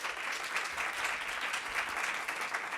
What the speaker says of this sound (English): And we'll give one more round of applause.